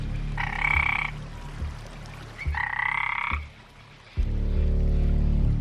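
Two loud frog croaks, each about a second long with a buzzing, rasping tone, separated by a pause, over a low rumbling background.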